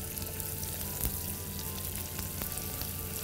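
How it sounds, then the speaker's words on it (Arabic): Butter melting with sugar in a pan gives a steady close sizzle and hiss, with a few sharp clicks from the pan, and no one speaks. "وهستنى الزبدة لما تذوب"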